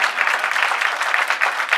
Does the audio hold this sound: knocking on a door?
no